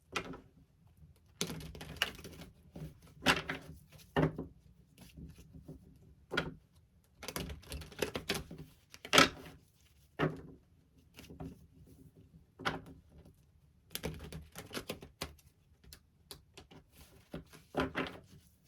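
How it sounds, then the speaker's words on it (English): Tarot cards shuffled by hand in repeated bursts of riffling and slapping, separated by brief quiet pauses, close to the microphone. "get a good shuffle of the deck first."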